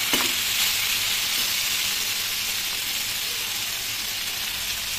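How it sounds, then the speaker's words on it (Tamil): Ivy gourd (kovakkai) frying in a pan gives a loud, steady sizzle and hiss throughout, with a faint stir or clink near the start. "பாருங்க ஃப்ரை ஆகும் போதே அந்த லைட்டா சுடுங்குதா கோவக்காய், அந்த மாதிரி நல்லா சுடுங்கணும்."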